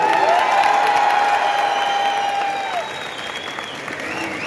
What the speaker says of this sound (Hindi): जरा और जोर से तालियां बजाए ताकि